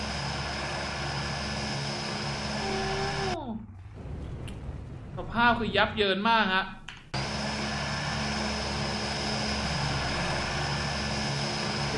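Propeller airplane engine in BeamNG.drive drones steadily as the plane banks, loud and continuous, cutting out briefly midway while someone talks excitedly over game noise, then resuming at full strength.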